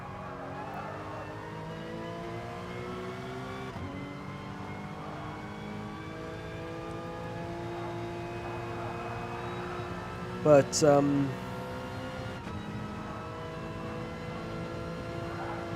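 A clubman race car with a standard gearbox runs at Mount Panorama, its engine holding a steady droning hum with a brief sharper clunk and whine midway, while someone talks over it throughout.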